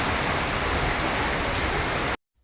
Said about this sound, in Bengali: আর বাইরে প্রচণ্ড পরিমাণ বৃষ্টি।